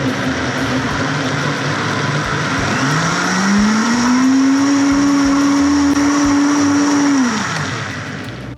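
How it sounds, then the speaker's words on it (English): Blender whirring through a melon popsicle mixture with sugar, loud and steady, its motor pitch rising to a sustained whine before winding down at the end, with no talk. "you wanna make sure you blend it long enough that sugar dissolves"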